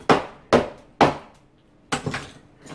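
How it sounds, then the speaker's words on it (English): Chisel struck against brick and mortar behind bathroom tile during demolition, four sharp loud impacts, three evenly spaced about half a second apart, then a pause and a fourth doubled strike, close and alone. "chisel away at it without breaking the front"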